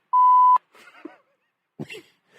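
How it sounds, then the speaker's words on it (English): A steady electronic beep button tone of about half a second rings out once, loud and clear, followed by scattered quieter studio noises and short thumps on a sports talk show. "you're going to hit the beep button as we get ready"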